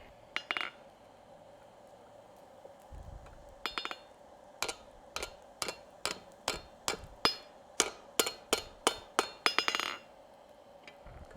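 Hammer blows ring out on hot steel from a hacksaw blade being forged on an anvil, a few scattered strikes and then a fast, regular run of sharp metallic clinks, close and crisp.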